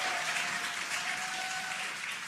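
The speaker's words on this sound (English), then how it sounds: "You can hear the crowd here." A crowd cheers and applauds outdoors as the Dragon Freedom capsule descends under drogue parachutes on its return to Earth, a steady, dense wash of noise with a faint sustained tone running through it.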